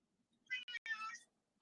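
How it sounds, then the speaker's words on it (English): A cat meows close by, a drawn-out call broken into a few short bursts, with a quiet room behind it. "You hear my little kitty cat or big kitty cat?"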